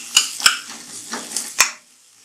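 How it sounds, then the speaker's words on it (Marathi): Onion frying in a pan for Maharashtrian misal pav, with sizzling under a few sharp metallic clinks of a spoon against the pan, close and alone without talk. "हे थोडंसं फ्राय झालं की आपण त्यात कांदा टाकूया।"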